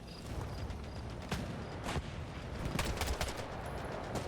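Rapid bursts of gunfire crackle in the video game Hell Let Loose: Vietnam, scattered single shots and clustered volleys at moderate distance, fairly faint and dense, with no talking over them.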